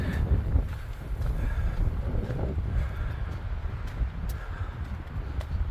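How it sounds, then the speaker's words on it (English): Wind gusts on a trail at Mesa Verde buffet the microphone in a continuous low roar, rising and falling without pause. "it definitely was not windy like this yesterday"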